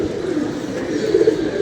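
Pigeons coo in a steady, continuous low murmur close by, with a slight swell near the end and no voices.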